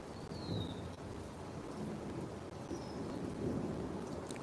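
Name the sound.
thunder during rain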